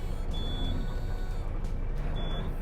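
Two short electronic beeps sound a couple of seconds apart over a steady low engine rumble.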